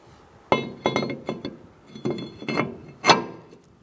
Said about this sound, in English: we're going to put our rotor on